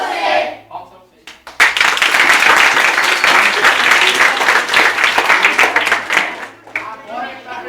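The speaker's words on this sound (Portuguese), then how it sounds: "Palmas pra vocês." Applause and rhythmic hand clapping from a group during a children's capoeira session, bursting loud after a short pause and continuing densely, with voices mixed in.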